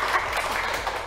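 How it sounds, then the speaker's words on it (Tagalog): An audience claps together for a guest at a seniors' gathering, a dense, even patter of hands filling the short stretch without pause. "Palakpak naman dyan!"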